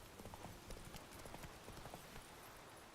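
The horse Roach galloping in the video game Witcher 3, a quick, steady rhythm of hoof clip-clops at moderate distance over a faint background noise, with no voices.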